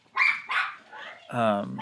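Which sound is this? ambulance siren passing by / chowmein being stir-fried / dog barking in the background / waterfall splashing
dog barking in the background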